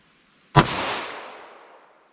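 A single loud, sharp gunshot from a pocket gun firing .38 Special Winchester Silvertip, a sudden crack followed by a long decaying echo outdoors, with nothing else around it.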